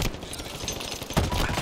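Dense automatic gunfire in the Halo Infinite multiplayer game, a continuous crackling fusillade running the whole brief moment, with a sharper burst near the end.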